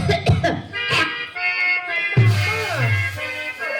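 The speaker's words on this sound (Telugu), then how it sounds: "అమ్మ అమ్మ ఒక్కసారి దగ్గవా దగ్గమ్మ" A woman coughs several times in sharp bursts during a Telugu stage play, then her voice rises in a drawn-out, strained sound that is close and loud.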